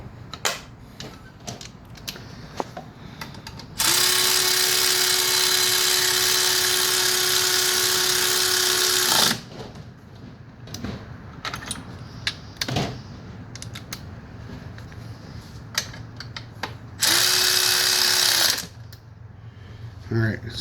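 Power tool running down 12 mm engine bolts on a 2004 Toyota Sienna during timing job reassembly, two loud close sustained whirring bursts, one long and one short, with clinks and handling noise between.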